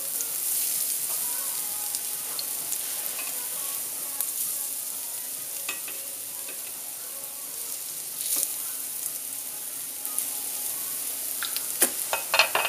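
Falafel patties sizzle steadily in hot oil, a continuous close crackle with scattered pops and brief louder spurts near the end, no voices.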